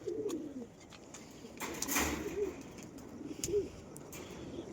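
Caged pigeons coo softly and repeatedly, low throaty calls spaced a second or so apart over faint background noise and a brief rustle.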